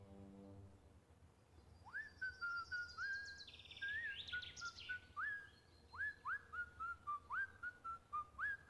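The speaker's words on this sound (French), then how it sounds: "en sifflant ce petit air avant que le spectacle ne commence" Someone whistles a bright little tune of repeated, rising and falling notes in a lively rhythm, heard clearly and alone before a show at Disneyland Paris.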